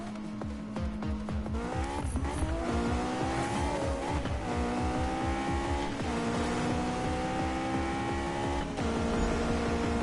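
A fast car in a racing video game, its engine roaring steadily and climbing in pitch through repeated revs, with brief tire squeal. It sounds loud and close throughout, with no talking.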